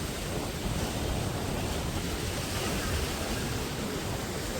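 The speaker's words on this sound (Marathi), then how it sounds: "कसलं चाललंय पाणी" Floodwater from the swollen Indrayani river rushes over a bridge at Dehu, making a loud, continuous roar of churning water that stays constant throughout with no talking.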